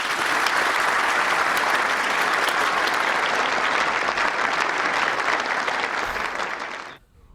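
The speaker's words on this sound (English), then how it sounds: "Let's offer a round of applause." Sustained applause from a large audience in a hall, a thick even roar of clapping that holds steady before cutting off abruptly near the end, with no talking over it.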